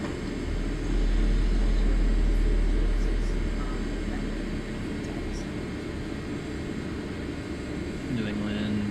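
An airliner departing Baltimore for Heathrow takes off and climbs after rotation, a steady loud engine roar and rushing noise heard from inside, with a brief swell early on.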